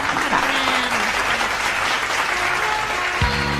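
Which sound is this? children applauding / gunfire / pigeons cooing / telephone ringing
children applauding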